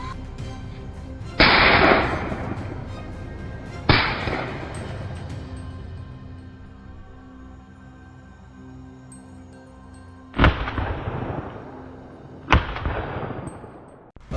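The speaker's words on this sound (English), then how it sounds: "Tom quickly pulled the trigger" Four loud gunshots are fired at wild boars near rows of grapevines, each a sharp blast with a long echoing decay, the first two a few seconds apart and the last two closer together.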